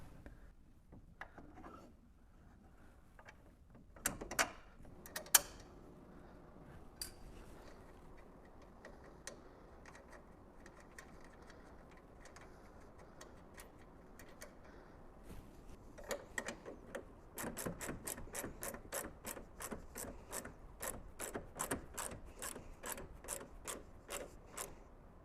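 Ratchet wrench tightening a nylock nut onto a bolt through a 4-link suspension bracket, heard as a close, quiet run of rapid clicks that speeds into a steady ticking burst toward the end, after scattered metallic taps.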